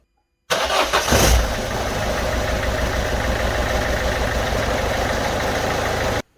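A Citroen Berlingo 1.6 HDi diesel engine cranks briefly and catches, then settles into a steady, close idle with a rough, even clatter that runs without pause to the end.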